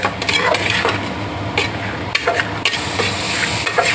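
Potatoes and peas being stir-fried in a pan, with busy scraping and clattering of the stirring utensil over a low frying sizzle, close up.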